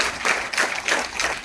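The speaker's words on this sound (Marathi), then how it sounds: "याच्यासाठी टाळ्या वाजवा फक्त." An audience claps in steady, close rhythm at a public talk in Mangalvedha, the claps coming in quick repeated bursts for a moment with no voices over them.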